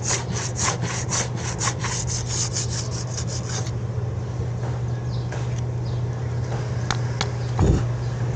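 Steady scratchy rasping of hand sanding on wood, quick regular strokes at first, then slower, fainter rubbing with a few knocks.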